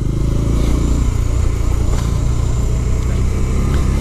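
A Bajaj Dominar 400 motorcycle engine drones steadily and loudly up close while descending the Serra do Rio do Rastro, holding a low, even rumble with faint wind noise throughout.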